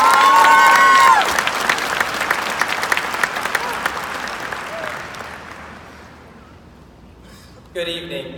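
A high school graduation audience applauds to welcome a student speaker to the podium, loud sustained clapping from a large crowd that gradually thins and fades, followed by a brief voice at the very end.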